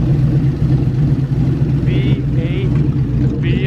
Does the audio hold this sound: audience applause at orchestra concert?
no